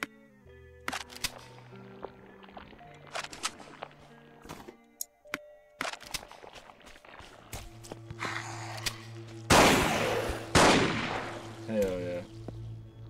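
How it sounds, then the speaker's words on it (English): Shotgun blasts in the video game Holstin, several loud booming shots spaced among footsteps and other game effects, with a dense, heavy burst near the end over a low droning score. "See what the shotgun does."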